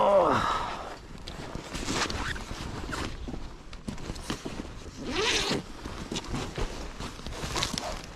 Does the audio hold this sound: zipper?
yes